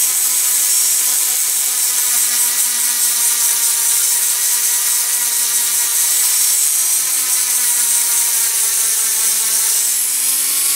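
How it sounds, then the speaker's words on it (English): A polishing wheel buffs a small part from a Dinky Aveling-Barford road roller model, giving a steady high whirring hiss with a faint rubbing tone that runs continuously and fairly loud throughout, no voices. "put to the polishing wheel around."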